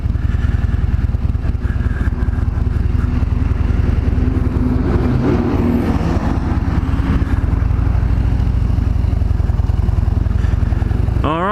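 A Harley-Davidson Road Glide motorcycle being ridden, a loud, steady low rumbling engine with wind buffeting throughout and a brief rising whine at the very end.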